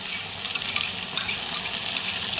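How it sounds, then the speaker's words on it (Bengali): Onion and garlic paste frying in a pan for a spicy tangra fish curry, giving a steady, close hiss of sizzling oil that carries on without a break and with no one talking. "পেঁয়াজ রসুন পেস্ট করেছিলাম দিয়ে ভালো করে কষিয়ে নিই।"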